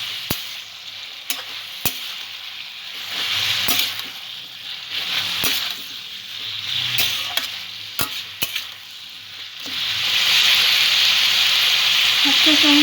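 Ground coriander and cumin frying in a pan while being stirred, steady sizzling with repeated sharp scrapes and clinks of the spoon, the hiss swelling louder near the end.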